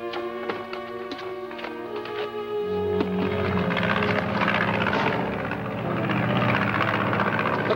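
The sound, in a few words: airplane flying, from 1950 film serial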